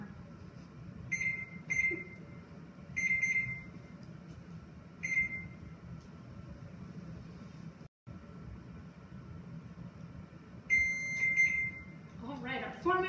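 A kitchen timer beeps in short bursts of high electronic tones against a low background hum while eggs are boiled, with a longer run of beeps near the end.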